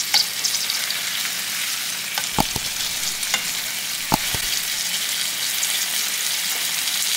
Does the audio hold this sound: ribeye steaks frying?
yes